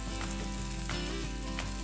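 Beetroot and carrot fry in a pan for an adai batter, giving a close, steady, loud sizzle that runs unbroken throughout.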